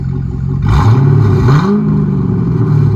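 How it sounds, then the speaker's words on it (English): A 2005 Chevy Corvette with a 6.0L V8 and Carven R Series dual exhaust is revved in neutral: a deep idle, then a sharp blip that climbs and falls back, loud and close. "Put it in neutral, give it a few pumps of gas."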